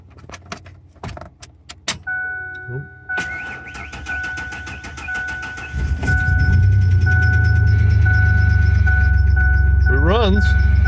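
An old junk car with a transplanted battery: keys jingle and a steady chime tone sounds, a few clicks follow, then the engine catches and settles into a loud, continuous running rumble.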